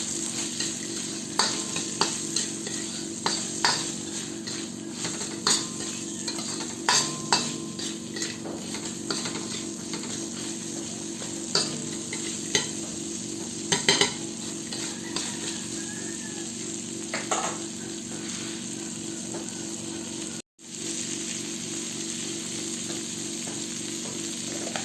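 Sweet potato and vegetables sizzle steadily in a frying pan while a utensil stirs them, with repeated scraping clinks over a constant close fry; no one speaks.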